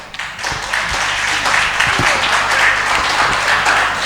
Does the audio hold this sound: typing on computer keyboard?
no